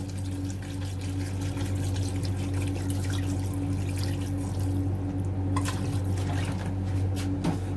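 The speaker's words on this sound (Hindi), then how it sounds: "पानी डाल देंगे हस्बे ज़रूरत।" Water pours steadily into a pot of beef yakhni pulao, giving a continuous splashing, gurgling stream with a few sharper drips near the end, close and fairly loud, with no talking.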